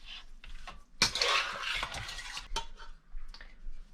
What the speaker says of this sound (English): So I'm just going to mix that all around.